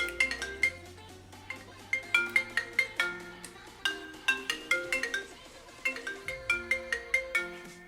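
An iPhone 8 ringtone plays from the phone's own speaker, a bright chiming marimba-like melody of rapid plucked notes repeating in phrases over a soft low hum, fairly close and steady.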